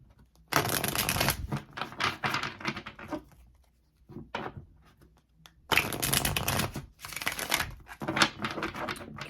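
Tarot cards are handled and riffle-shuffled in several loud, close bursts of rapid flapping and crisp card snapping, separated by quiet pauses.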